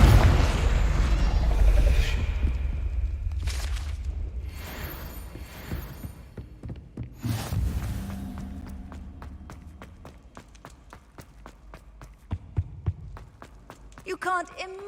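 A Confringo spell blast in Hogwarts Legacy, a booming explosion rumble with follow-up bursts, then running footsteps and scattered pops fading as the scene settles.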